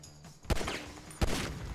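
Two sharp gunshots in Grand Theft Auto 5 on PC, fired out on a street at spilled gasoline, each a loud crack about 0.7 seconds apart followed by a short ringing decay, with no talking.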